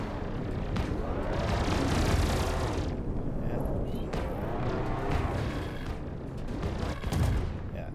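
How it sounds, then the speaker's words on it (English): Cannons fire in a ship video game as a dense, continuous barrage of booms and blasts, loud and close, rolling on without pause and swelling again near the end. "Yeah, cannons, baby."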